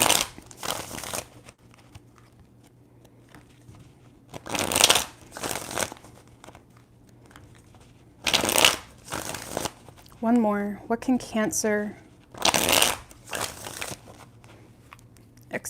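Tarot cards shuffled in three bursts of riffling, close and crisp, spaced apart, with a person speaking in between.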